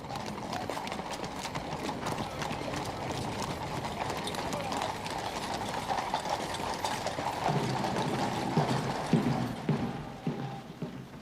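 Horse-drawn carriages in a royal procession, hooves clip-clopping steadily with wheels and harness clattering, moderately loud and continuous, with a voice speaking over the sound.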